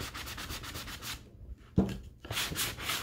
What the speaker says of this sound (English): So I'm just rubbing it along the edges to reveal some of that brown.